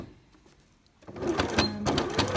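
A sewing machine stitches along the edge of a fabric mask, starting after a quiet second and running in a close, moderately loud whir to the end.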